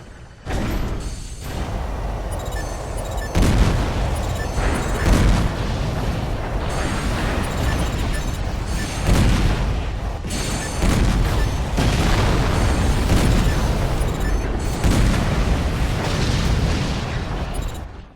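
Heavy booms and explosions burst repeatedly in the Armored Core mech combat game, mixed with gunfire and mechanical clanking. The sound is loud and dense throughout, with brief lulls between the barrages.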